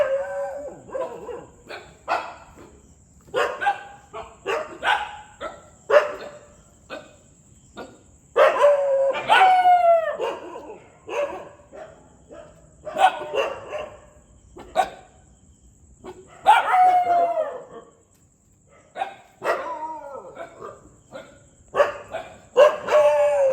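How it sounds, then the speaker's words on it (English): A dog barks repeatedly in uneven bursts, mixing sharp barks with drawn-out howling yips and whimpers, fairly close and loud against a quiet background, with some voices now and then. "It's a dog, guys."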